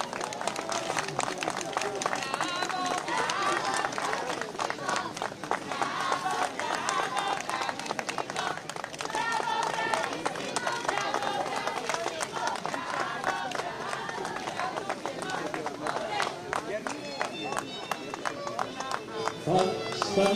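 A large audience claps steadily at a memorial awards ceremony in Poland attended by the president, a dense, even roll of applause that lasts throughout while an announcer speaks over it.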